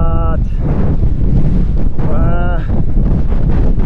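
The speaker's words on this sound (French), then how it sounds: "Là c'est le vent clairement." Strong wind roars across a high Alpine mountain pass during a gravel bike ride, a constant heavy buffeting rush against the microphone that never lets up, with a brief voice surfacing in the gusts.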